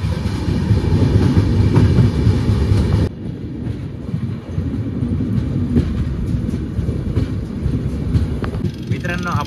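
Shri Ganganagar SF Express rolls toward Amalner on the Surat route, a loud continuous rumble with rhythmic clickety-clack of wheels and wind buffeting, dipping briefly partway through before the roar resumes.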